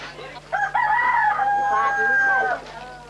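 A rooster at a Bidayuh heritage ceremony gives one long, loud crow close by, after a few brief rough calls at the start.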